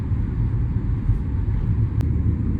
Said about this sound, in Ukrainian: туранчик, ну класно їде, еластично, класно, тихо, Е, бензинова турботяга